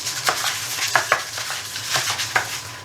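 Butter being spread across a baking pan, heard as soft scraping and smearing strokes with several sharper taps and knocks of utensil against metal, close and fairly quiet, no talking.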